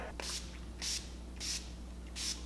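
Four short hissing bursts of a facial priming spray mist, evenly spaced about half a second apart, close and fairly quiet.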